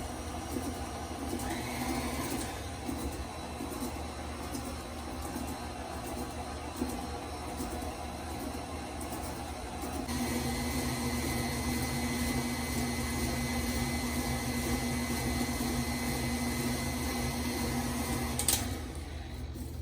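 Brownie batter of sugar and eggs being mixed, heard as a continuous mechanical whir with a slight rise in level partway through and a brief clatter near the end.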